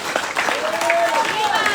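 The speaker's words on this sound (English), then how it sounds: "Give them a big round of applause." Audience applause after a speech at a Saipan political announcement, a steady wash of clapping lasting a couple of seconds with some voices mixed in.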